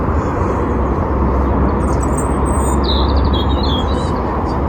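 Birds chirp and tweet faintly in the distance in a botanical garden in May, over a constant low rumble of traffic or wind.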